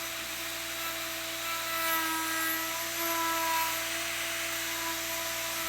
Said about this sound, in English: the router bit exactly mimics the movement of the stylus and will cut a dimensionally perfect copy of the pattern in the neck blank